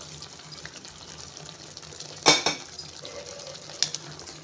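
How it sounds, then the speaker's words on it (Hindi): Mutton stock and meat pour into a cooking pot for an Andhra-style mutton and okra soup, with a splash of liquid and metallic clinks of the utensil, fairly close and without talk. "अब इसके साथ हम जो गला के रखी थी गोश्त का पानी और गोश्त को भी इसमें डाल देंगे"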